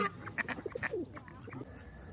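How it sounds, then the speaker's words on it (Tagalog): Several ducks quacking and honking close by in a quick, irregular flurry of calls as they are fed in a park in Aschaffenburg, with a faint voice in the background. "Tapos na kaming magpakain ng ibon, mga bibi."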